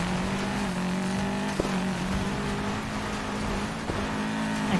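A car engine in Need For Speed Payback, driving down a straight dirt road: a steady, close engine drone held at constant revs, with two brief jolts or shifts breaking the hum.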